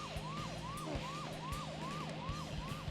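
A wailing ambulance siren in a mid-1990s PlayStation driving game sweeps up and down in a steady repeating cycle, loud and close over a constant low engine drone.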